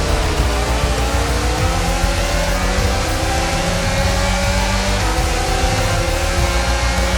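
F1 racing cars in the F1 22 video game at the Miami Grand Prix, engines droning loud and continuous with shifting revs and some tire noise, no voices over it.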